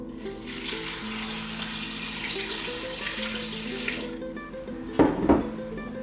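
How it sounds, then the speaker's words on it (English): Water runs steadily from a tap for about four seconds, splashing into an Instant Pot over dried chilies, then stops, followed by a couple of brief clunks. "I am going to cover them with water."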